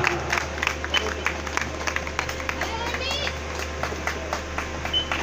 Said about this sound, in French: Applaudissements pour Miss Anna